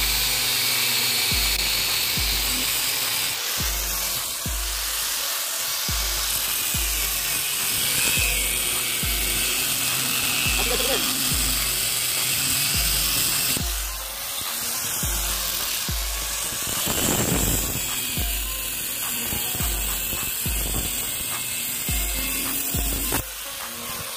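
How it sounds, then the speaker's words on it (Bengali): Grinding machine cutting a metal rod, a sustained high abrasive whine with a regular low thumping pulse running through it, loud and close with no voices. "এখন গ্রাইন্ডিং মেশিন দিয়ে সুন্দর করে কেটে নিব"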